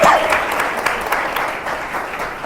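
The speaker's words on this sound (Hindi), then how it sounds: "एक जोरदार ताली।" A church congregation claps in loud, dense applause that fills the room and holds steady throughout without fading.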